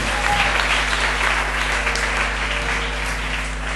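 A church congregation applauding, dense sustained clapping that fills the room at a steady level and tapers slightly toward the end.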